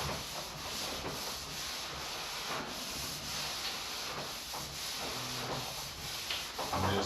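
Wet sanding with 400 grit sandpaper in long strokes makes a continuous rhythmic rubbing hiss, close and steady, each stroke swelling and easing, with no talking.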